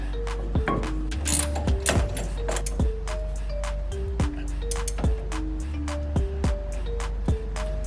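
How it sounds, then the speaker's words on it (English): A ratchet spanner tightens the rear brake mounting bolts on an R33 Skyline: a steady run of sharp, close metallic clicks in short bursts, with faint tonal ringing between strokes. "So I'm just going to use a ratchet spanner."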